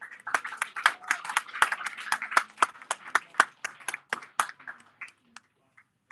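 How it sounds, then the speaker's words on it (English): Wedding reception guests clap for the best man in a scattered round of applause. Individual claps stand out close and crisp, then thin to a few last isolated claps and fade out. "Let's give him a round of applause."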